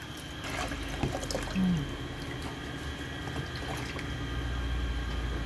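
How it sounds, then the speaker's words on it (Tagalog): Rice is washed in water, with close sloshing and trickling of water and a few soft clunks against the pot, steady and moderately quiet, no speech. "Hugasan muna natin ang bigas."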